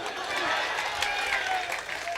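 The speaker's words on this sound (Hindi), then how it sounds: "अब बस जोरदार तालियां लगना चाहिए" Steady wash of audience applause at an outdoor All India mushaira poetry gathering at an urs celebration in Jhinjhana, Shamli, dense clapping sustained and fairly loud for about two seconds, with crowd murmur blended in.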